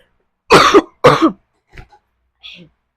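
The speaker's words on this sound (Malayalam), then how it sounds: "പെട്ടെന്നൊരു ചുമ വന്നിട്ട് ശ്വാസം കിട്ടായത പോലെ" Two loud, close coughs in quick succession, followed by a few faint, short throat sounds, with silence between them.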